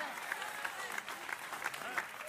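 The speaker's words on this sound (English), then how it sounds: "I wish I got better claps." An audience at a talk on marriage advice applauds, a dense and fairly soft patter of clapping that holds steady throughout.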